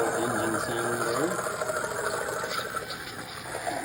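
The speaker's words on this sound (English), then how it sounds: "There's a little engine sound there." A small 370 electric motor in a WPL RC truck fitted with a 2-speed gearbox whirs steadily with a high mechanical whine and gear rattle, running continuously close by on the ground.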